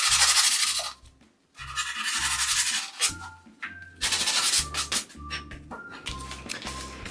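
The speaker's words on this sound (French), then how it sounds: "on finit juste avec un petit coup de papier de verre au bout" Sandpaper finishes the end of a wooden piece for a homemade swing frame, giving repeated rhythmic rasping strokes, close and fairly loud, with short pauses between bursts and a few light knocks.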